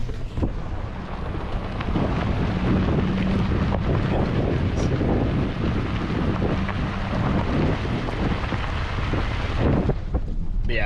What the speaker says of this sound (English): let me just show you these freaking crazy ass washboards we've been driving over